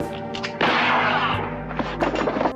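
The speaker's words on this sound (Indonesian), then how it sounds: "Dengan cepat kolonel menembakkan pistol dari balik lengan bajunya." A colonel in a Western film fires a pistol hidden in his sleeve at close range, heard as a single sharp, loud shot whose ring decays, followed by a few fainter clattering knocks.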